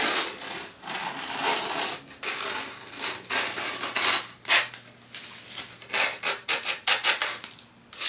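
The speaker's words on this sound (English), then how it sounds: "you're going to cut around the skateboard and cut off all the grip tape." A razor blade cuts grip tape around the edge of a skateboard deck, making steady, close, raspy scraping and rubbing strokes that pulse unevenly without pause, with no voices.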